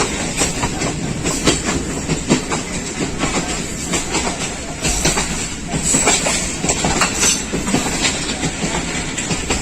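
A Pakistan Railways train runs along the Pakistan-India border between Lahore and Sialkot, with steady rumble, rhythmic clickety-clack of wheels and a broad hiss, loud and close throughout.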